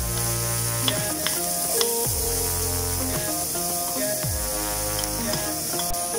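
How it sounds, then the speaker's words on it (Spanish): Garlic and onion sizzle in a frying pan, a steady hiss, while music with a bouncing melody plays over it. "Y en esta misma sartén pondremos a citronar nuestro ajito."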